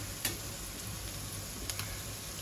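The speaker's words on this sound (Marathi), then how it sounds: "आपण यावर कुरमुरी घालूया।" Puffed rice gets tossed and stirred in a pan, with a couple of sharp scrapes standing out over a faint steady sizzle, close up and quiet with no one talking.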